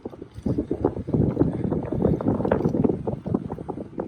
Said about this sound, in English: Got a little bit of a headwind